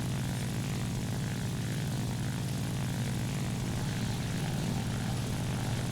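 Propeller engine of an N1K2-J fighter plane in the War Thunder video game, a loud, steady droning hum that holds evenly throughout, with no talking.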